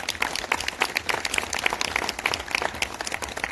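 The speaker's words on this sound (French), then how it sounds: "Acclamez pour la gloire de Dieu." A church congregation applauds steadily, dense overlapping hand claps filling the whole stretch at a lively, even level with no pause.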